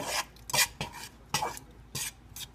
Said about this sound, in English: And you just want to heat it up, mix it like this.